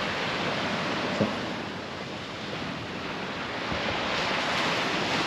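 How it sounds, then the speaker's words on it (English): Surf on Panama City Beach along the Gulf of Mexico, a continuous broadband wash of breaking waves mixed with wind noise, steady and fairly loud throughout. "All that water trying to get back to the Gulf of Mexico."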